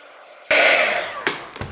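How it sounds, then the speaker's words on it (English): A heat gun switches on and blows hot air in a steady broadband whoosh at close range, working on a wooden gate element, then briefly cuts and restarts twice in quick bursts. "Let's give her a whirl with the heat gun."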